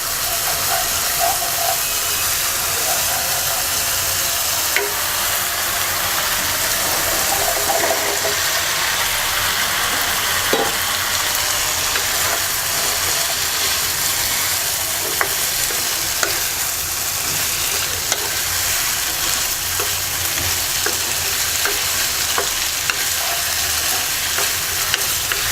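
Potatoes and vegetable stalks fry in a spice paste for a hilsa fish curry, giving a steady, loud sizzle and hiss that runs unbroken throughout, with occasional small pops and stirring clicks and no voices.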